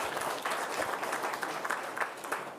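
An audience applauding at a monetary policy statement event, a steady wash of many hands clapping at moderate volume, sustained across the whole moment without speech.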